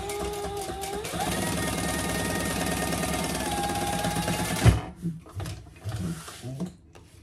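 Sewing machine top stitching a Bartleby sling bag runs in a steady, close, rhythmic whir for about four and a half seconds, then stops, leaving a few faint handling clicks and bumps.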